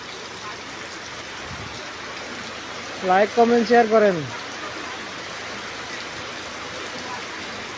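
A hard, steady downpour hisses across Taboloichhari bazaar, with a voice speaking briefly midway over the constant wash of rain.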